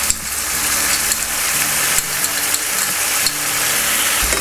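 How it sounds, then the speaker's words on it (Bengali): Potato dum with cumin and coriander powder being stirred in a pan, a steady close sizzle and fry with soft scraping of the spoon throughout. "আবার একটু নেড়ে দিচ্ছি।"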